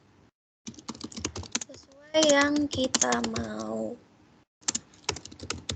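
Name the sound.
typing on a computer keyboard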